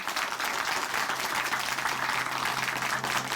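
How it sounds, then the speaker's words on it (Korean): A church congregation in Chuncheon gives a brother a big round of applause after his testimony, dense steady clapping throughout the short stretch with no talk over it. "다시 한번 형제님께 큰 박수 보내드릴게요"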